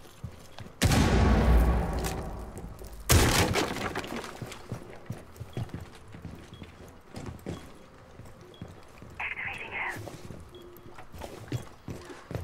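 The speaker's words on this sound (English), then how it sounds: "Frag grenade out." A frag grenade blast in Rainbow Six Siege on the Villa map, a loud close boom followed by a second heavy burst and rumbling debris, then scattered footsteps and clatter in a quieter stretch.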